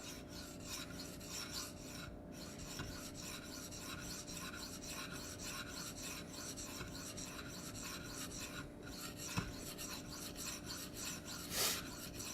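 A knife is sharpened by hand pressure on a 240 grit Venev stone, producing steady, even rasping strokes in a continuous back-and-forth rhythm, close and fairly quiet, with no talk.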